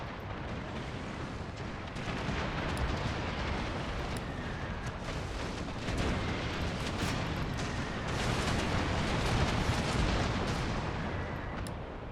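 Heavy cannon fire in a naval warfare video game, a dense continuous barrage of booms and rumbling blasts that runs loud throughout the clip with no voices.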